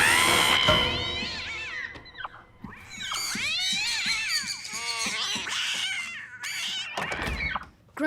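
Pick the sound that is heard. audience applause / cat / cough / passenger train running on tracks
cat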